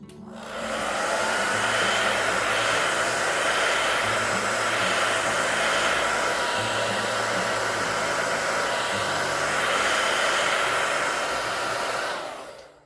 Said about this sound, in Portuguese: vou dar uma secada bem rápida, tá? Com o secador no jato médio.